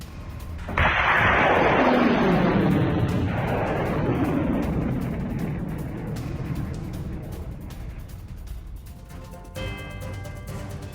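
An artillery or missile strike from the Russia–Ukraine war, a single loud explosive blast with a long rumbling roar that slowly fades over several seconds.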